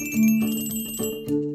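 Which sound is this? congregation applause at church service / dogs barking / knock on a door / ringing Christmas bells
ringing Christmas bells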